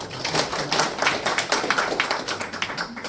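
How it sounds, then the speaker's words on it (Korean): Audience clapping at a colloquium opening ceremony in Chuncheon as guests are introduced, a moderately soft, steady patter of many hands without talk over it. "안내드릴 때마다 큰 박수 부탁드립니다."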